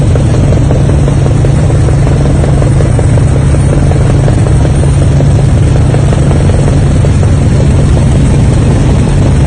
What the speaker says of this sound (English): now they have a helicopter protecting the train